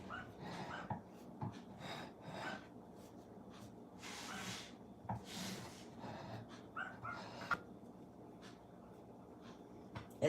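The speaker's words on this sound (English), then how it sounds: "I swear them dogs are barking at anything." Dogs bark, snort and pant in a home kitchen, with short bursts of barking and sniffing scattered at moderate distance over continuous background noise.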